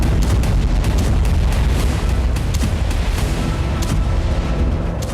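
Russian bombardment of Kharkiv makes loud, continuous low rumbling booms with repeated sharp bursts layered over a constant roar, heavy and dense throughout.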